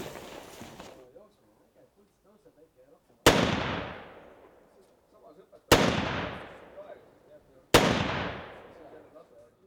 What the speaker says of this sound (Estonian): Mismoodi siis sõjaväeline taktikaline laskmine välja näeb?